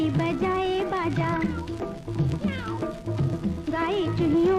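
A cat meows several times in a rising, wavering voice, set inside an Urdu children's rhyme with steady backing music and sung lines running throughout.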